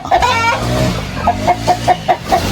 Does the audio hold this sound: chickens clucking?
yes